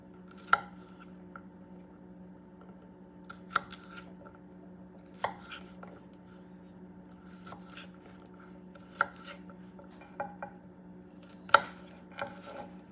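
A knife cuts open garlic for Puerto Rican hot sauce in about a dozen sharp, scattered clicks and taps on a board, over a quiet steady hum, close and without talk.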